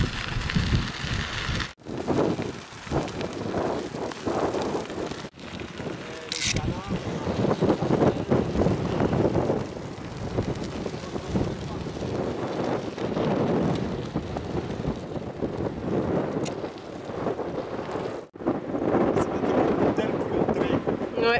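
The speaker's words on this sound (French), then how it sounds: "Il y a beaucoup de vent" Strong coastal wind buffets the microphone on a bike ride along the shore at Noirmoutier, a loud rushing roar with gusts that drop out briefly while a person talks.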